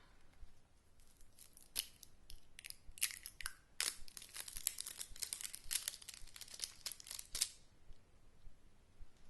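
A foam clay package is cut open with crisp crinkling plastic and a run of close, sharp snips and tears, busy and loud in the middle and then settling into quiet.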